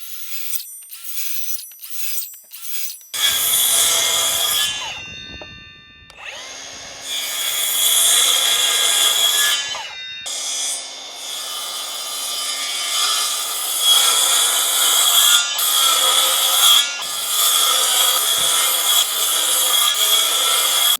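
A power saw set to depth cuts repeatedly through wood for a door frame in several loud, sustained bursts, whining and rasping, separated by brief pauses and short taps at the start.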